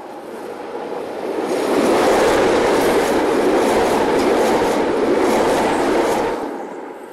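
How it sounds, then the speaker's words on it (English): A train rumbles past a line of fertiliser wagons at Kaupatoroa, a loud, dense roar of wheels and rolling stock that swells, holds steady for several seconds, then eases away. "The return journey, passing the fertiliser wagons at Kaupatoroa."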